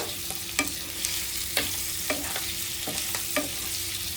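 Chicken fries dry with salt in a pan, a continuous sizzle punctuated by regular spatula strokes and taps roughly every half second, close and clear.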